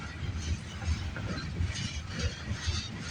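Freight train with auto racks at the end rolling past at steady volume, a continuous low rumble with faint rail clatter and hiss running throughout, with no voices.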